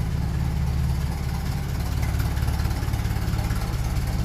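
A 1957 Ferguson 35 tractor with a TVO engine idles close by with a steady, even low throb and slightly raised revs, running alone without talk.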